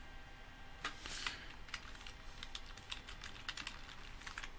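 Computer keyboard keys clatter in quick, uneven bursts of typing while a password is entered on a Raspberry Pi 3 setup, close and moderately quiet, with no talking.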